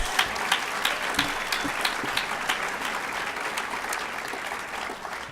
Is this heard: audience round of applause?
yes